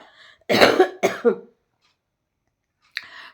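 A couple of sharp, close coughs in quick succession, then silence and one brief short cough at the end.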